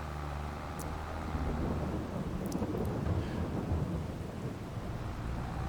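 Steady rain and low rolling thunder from a Farming Simulator 22 storm, a dense continuous wash of rainfall with rumbles swelling underneath, fairly loud and without voices.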